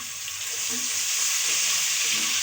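Ginger garlic paste hits hot oil already holding cumin seeds and fried onion, giving a steady, close hiss of frying that runs unbroken with no voices over it.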